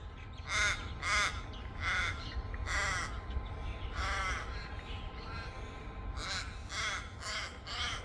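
A crow caws repeatedly in short harsh bursts on a quiet morning, the calls spaced irregularly and moderately close over a faint low background hum.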